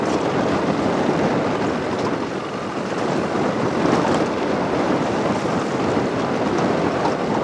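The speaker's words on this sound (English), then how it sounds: "I wish it wasn't windy out here" Wind gusts steadily across the microphone outdoors at a cabin hunting camp, a broad continuous roar that swells and eases slightly, with no voices.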